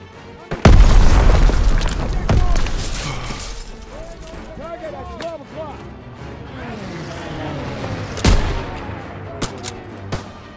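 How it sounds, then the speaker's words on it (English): A grenade blast booms loud and close in a Call of Duty WW2 campaign battle, followed by scattered gunfire and further explosions, with soldiers shouting orders over the combat. "Throwing the grenade!"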